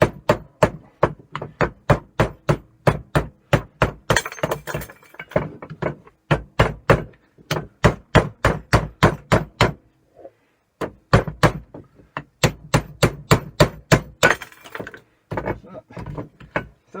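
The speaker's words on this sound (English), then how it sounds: "still need to keep working my way with the chisel. Do that so it splits it open." A chisel is struck again and again with sharp, loud blows as it splits open a wooden bench. The hits come in quick regular runs, with a brief pause in the middle.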